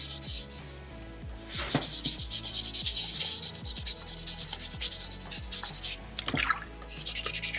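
Soapstone bear carving being wet sanded by hand with 600 grit sandpaper over a bucket of water, a steady close scrubbing rasp in repeated strokes with occasional water drips, no talking.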